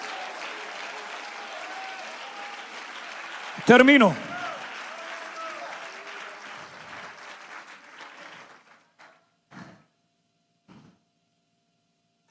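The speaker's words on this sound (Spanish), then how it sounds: "Alguien que le dé un aplauso al Señor esta tarde." Church congregation at a Spanish-language service applauding after the pastor's call, steady clapping under his continued speech that thins out and stops near the end, with a loud shout partway through.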